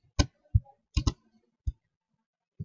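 Computer mouse clicks while building an HTML table: a handful of crisp, close, isolated clicks, some in quick pairs, separated by silence.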